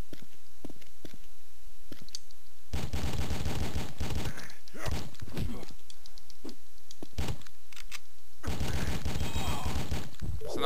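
Bursts of rapid video game gunfire rattle out in loud clusters, several volleys separated by quieter stretches, with a player's voice talking over parts of it.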